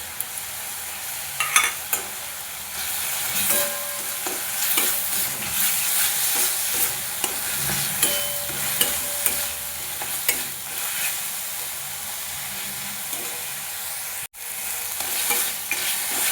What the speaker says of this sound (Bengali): পেঁয়াজ বাটাটা একটু নেড়ে চড়ে এর মধ্যে দিয়ে দেবো আদা রসুনের পেস্ট